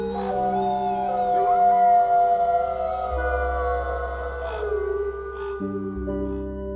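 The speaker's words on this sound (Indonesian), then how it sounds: "lolongan serigala tidak hanya berfungsi sebagai alat penanda batas wilayahnya, melainkan juga memiliki peran penting dalam komunikasi antar anggotanya" Wolves howling, several long, wavering tonal howls overlapping in a steady chorus that rises and falls in pitch, clear and moderately loud with no talk.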